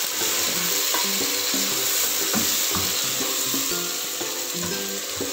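About 750 g of mutton browning with onions in a pot for dhaba-style aloo gosht, a dense, continuous sizzle with soft rhythmic stirring knocks running through it.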